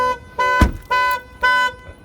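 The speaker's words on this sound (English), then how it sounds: "and the alarm goes off, of course," The alarm on a Saab 9-3 SportCombi 2.0 T sounds nearby in loud, evenly spaced horn blasts, three pulses with short gaps between them.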